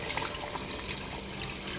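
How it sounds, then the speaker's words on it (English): Water poured into a pot of half-cooked chicken for a one-pot chicken biryani, a steady close splashing pour at low level with no speech. "Now this is the time we're going to add the water."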